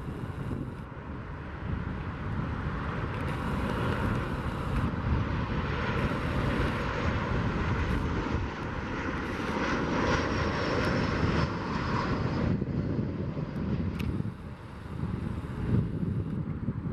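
An Eastern Airlines Boeing 737-800 jet roars continuously while landing at Montreal, its engine noise loud and sustained with wind buffeting the microphone and a thin whine sliding downward as it rolls out.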